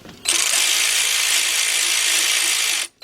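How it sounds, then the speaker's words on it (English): A ratchet turning a 10mm shallow socket on a 3/8 drive extension tightens the bolts of a power steering reservoir on a Ford Focus or Transit Connect. It gives a loud, steady whirring buzz for almost three seconds, then cuts off briefly. "now we're going to take our big bill ratchet with our same setup"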